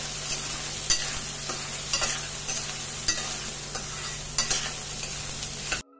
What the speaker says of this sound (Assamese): সয়াবিনকেইটা মই অলপ ভাজি ল'ম।